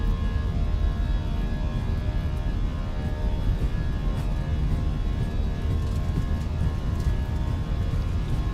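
Airbus A320 jet engines spooling at takeoff thrust during the roll in the Fenix flight simulator, a loud steady roar with a constant whine, continuous and close, without speech.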